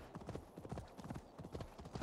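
Horse hooves galloping in the video game Assassin's Creed Valhalla, a steady rapid clip-clop rhythm of repeated hoofbeats, close and fairly quiet, with no talk over it.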